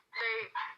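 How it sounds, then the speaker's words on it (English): Dog barking outside: two short, close-sounding harmonic barks in quick succession, the first longer and the second briefer, with no talk over them. "there's a dog barking outside"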